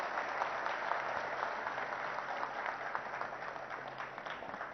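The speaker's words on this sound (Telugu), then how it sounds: "గట్టిగా ఒకసారి చప్పట్లు కొట్టాలి మంచి పని చేసిన వాళ్ళకి" Steady, dense applause from an audience at a factory inauguration for Radiant Appliances & Electronics, continuous and fairly close throughout with no voices over it.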